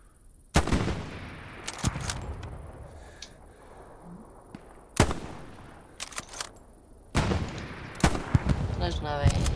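Mosin-Nagant sniper rifle shots in the World War II shooter Hell Let Loose: a few loud, sharp cracks spaced seconds apart, each followed by a rolling echo, heard under quiet background ambience.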